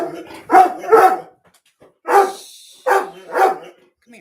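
A dog barks loudly and close by in five sharp barks: two in quick succession, a pause, then three more.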